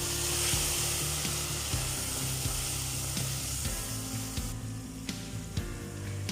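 Onions browning with tomatoes just added, frying in a pan for a peas-and-meat curry, give a steady, close sizzle with occasional scraping stir clicks and no talking.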